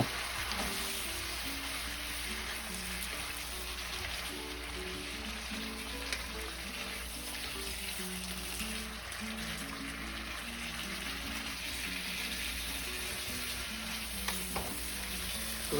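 String beans and red onion sauté in a hot pan for ginisang sitaw with beefsteak, a steady broad sizzle running throughout with faint scrapes of stirring, close and fairly loud, no voices.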